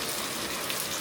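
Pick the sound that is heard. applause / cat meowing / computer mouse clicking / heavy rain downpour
heavy rain downpour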